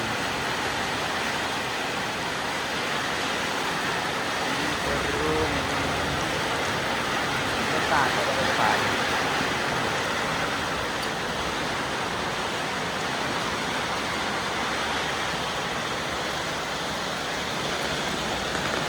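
A steady downpour of rain outdoors in Thailand makes an even, unbroken hiss at moderate loudness throughout, with no talking.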